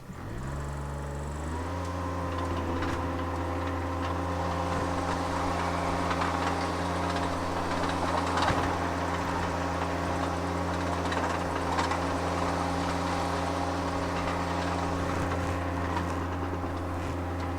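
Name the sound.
Hyrax 27.41 compact tracked lift engine starting and running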